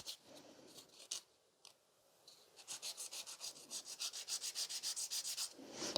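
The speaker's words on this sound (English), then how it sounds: "so I still need to file a little bit more in here" An acrylic stiletto nail is filed with a nail file, a few scattered scrapes at first, then a run of quick, even back-and-forth rasping strokes, close and fairly soft.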